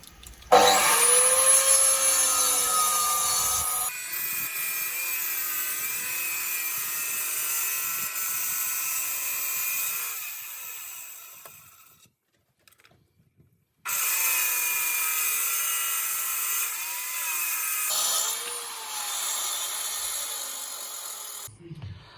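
A power cutter slices and trims a stone paving slab for a patio around a recessed manhole cover, a loud high whining grind that runs in two long passes separated by a short quiet pause.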